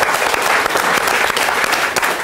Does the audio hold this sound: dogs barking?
no